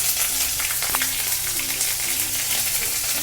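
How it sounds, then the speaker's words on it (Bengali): Ginger paste fries in hot oil with a dried red chilli and whole cumin, giving a steady close sizzle with a few faint light taps; no talking. "একটা শুকনো লঙ্কা আর গোটা জিরে দিয়ে এটাকে আমি একটু ভেজে নেব। এবার এতে দেবো একটু আদা বাটা"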